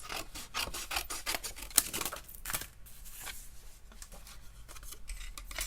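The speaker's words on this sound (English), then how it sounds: "I'm not using the trimmer because I've got it covered in stuff. I'm just using my snips." Hand snips cut through card in a series of quiet, close crisp snipping and rustling strokes, with no talk.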